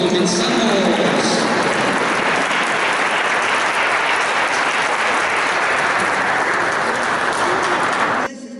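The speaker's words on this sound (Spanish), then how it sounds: "Recibimos un fuerte aplauso y comenzamos" Loud, sustained applause from an audience at a children's choir performance at a Christmas-season church event, dense clapping filling the room for several seconds before cutting off abruptly.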